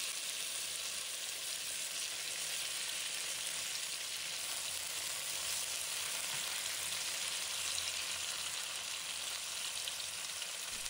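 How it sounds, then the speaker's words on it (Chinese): Tofu pieces fry in hot cooking oil in a home kitchen wok, giving a steady, close, even sizzle that crackles on for about eleven seconds with no voices. "豆腐入锅瞬间，滋滋声响彻耳畔"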